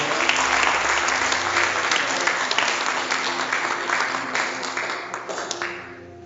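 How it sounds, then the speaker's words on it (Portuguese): A church congregation applauds loudly during a worship service, a thick, continuous roar of many hands that gradually tapers into scattered claps at the close. "Você pode aplaudir ao Senhor bem forte."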